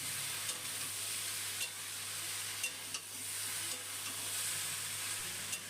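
Grated ginger sautés with jackfruit seeds and vegetables in a pan, giving a soft, steady sizzle close by with a few light taps and scrapes from the stirring spoon.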